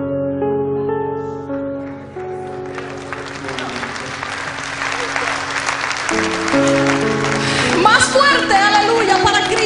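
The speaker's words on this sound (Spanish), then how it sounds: "Aplausos." A church congregation at a communion service applauds, the clapping swelling in after sustained music and building louder toward the end while voices carry on over it.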